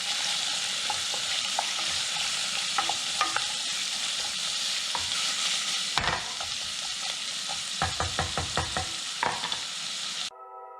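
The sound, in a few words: stirring seasoned ingredients in pot for red lentil soup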